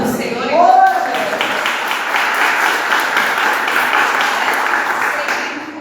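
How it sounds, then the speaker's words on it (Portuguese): A church congregation applauds steadily, a broad wash of clapping that holds evenly for several seconds while a voice speaks over it. "Você consegue aplaudir o Senhor?"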